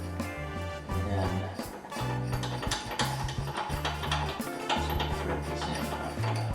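Metal bolt threaded by hand into a motorcycle swing arm on a GS550 cafe racer build, giving a run of small close ticking and ratcheting clicks in a steady, uneven rhythm, heard alone.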